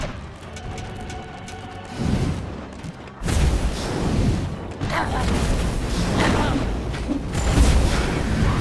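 Cannon fire from towers in the strategy game Dungeons 3, a steady rumble of booming shots with dense battle noise that swells around a few seconds in and stays loud throughout.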